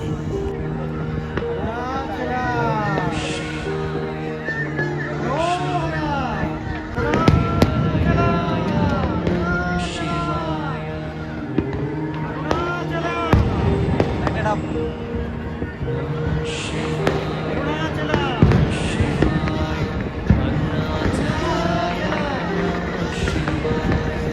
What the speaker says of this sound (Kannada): ಪಟಾಕಿ ತುಂಬಾ ಹೊಡಿತಾ ಇದ್ದಾರೆ